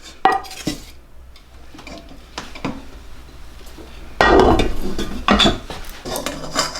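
Elderberries and syrup ingredients being mashed into a metal strainer, producing irregular scraping and clinking knocks of utensil against metal, with a louder burst of mashing near the end.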